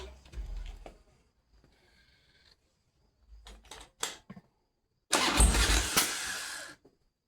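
A carbureted 2002 Harley-Davidson Dyna Super Glide FXD is cranked over in a few short bursts that fail to catch, then roars to life loudly for about two seconds before cutting off.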